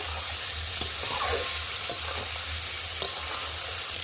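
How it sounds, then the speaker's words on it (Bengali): Ginger garlic paste fries with beef in a pan, a bright steady sizzle cut by three distinct clinks of the stirring spoon against the metal. "বাটা আদা রসুন বাটা দেবো ভালো করে এসে নেড়ে চেড়ে নেবো আবার"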